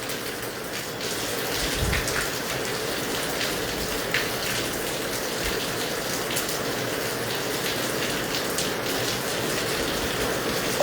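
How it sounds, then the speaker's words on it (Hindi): Steady heavy rain pours down in Hisar, India, a dense hiss of drops hitting surfaces with occasional louder splats, constant and fairly close. "हिसार में बारिश हो रही है जी"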